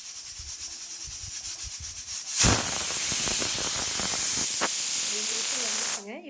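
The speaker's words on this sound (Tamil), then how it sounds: "ஒரு விசில் வருதுங்க." A pressure cooker on the stove cooking pea pulao lets out a loud, sustained whistle and rush of steam that starts abruptly, holds steady for several seconds, then cuts off, with softer kitchen noise before it.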